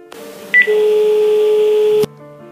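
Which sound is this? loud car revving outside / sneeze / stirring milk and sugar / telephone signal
telephone signal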